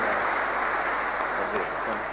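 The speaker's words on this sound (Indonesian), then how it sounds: "berikan tepuk tangan untuk Pak Gub dan Pak Wagub" A crowd applauds the governor and vice governor at a Quran memorization program event, a steady dense wash of clapping that fills the whole moment without a break.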